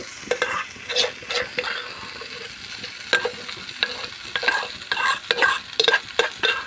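Pundi palya, a sorrel leaf curry, is stirred in a pan with a spoon, giving repeated close scraping strokes in irregular bursts over a quiet background.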